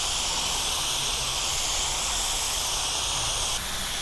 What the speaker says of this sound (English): So you just spray and move, spray and move.